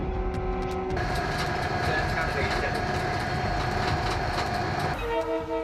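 A train rolls past on the railway tracks with steady wheel rumble and clatter, while a long sustained horn blast sounds over it and shifts pitch near the end.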